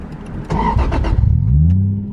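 A Toyota 1JZ car engine cranks and catches after stalling, starting up with a rough burst before settling into a rising, steady idle, close by.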